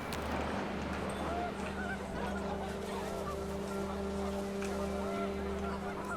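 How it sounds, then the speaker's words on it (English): Geese honking in a windy outdoor scene in the video game What Remains of Edith Finch, with repeated overlapping calls over a steady wind-like drone and a low hum, continuous throughout and moderately loud. "I hear geese."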